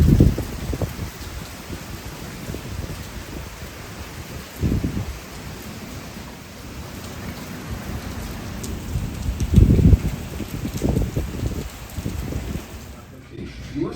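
Heavy rain pours steadily outside a Walt Disney World resort hotel in Orlando during a hurricane evening, a constant broadband hiss with a few louder gusty surges and no talk.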